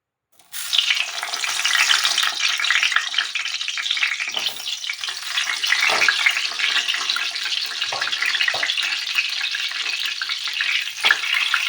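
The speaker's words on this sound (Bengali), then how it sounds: "এইবার আমি নুন হলুদ মাখানো বেগুনগুলোকে আস্তে আস্তে তেলের মধ্যে ছাড়বো" Salted, turmeric-coated eggplant pieces drop into hot oil and burst into a loud, continuous frying hiss that holds steady, with occasional brief crackles and shifts.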